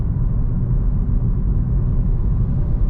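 A 2022 Kia Stonic with a 1.4 petrol engine pulls at roughly half power toward 80, its engine and road noise forming a steady, fairly loud low drone heard from inside the cabin without talk.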